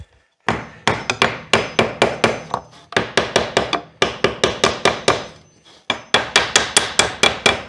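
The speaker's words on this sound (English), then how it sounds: "I like this little tack hammer." A small tack hammer taps wood in quick, sharp bursts of several strikes each, separated by short pauses, close and crisp.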